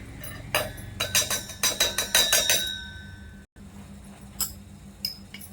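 A steel mixer jar is handled in a home kitchen while milk powder is measured into it for rava gulab jamun, giving a quick run of close, bright clinks and knocks, then a pause and a few softer taps.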